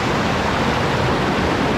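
Powerful rushing mountain water roaring in a steady, dense broadband wash, loud and close, with no pause or break.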